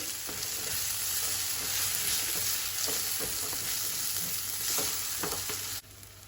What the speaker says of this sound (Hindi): अब इसमें ऐड करेंगे हम पालक की पेस्ट। अच्छे से इसको मिला लेंगे।